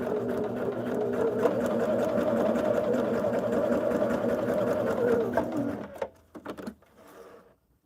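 A sewing machine runs steadily for about six seconds, stitching a seam on a quilt with right sides together, then stops, leaving a few faint handling noises.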